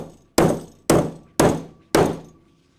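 Four sharp, evenly spaced metallic thunks ring out close by as an R2T applicator tool presets Flexco R2 rivet hinged belt fastener plates on a conveyor belt, each strike decaying quickly before the next.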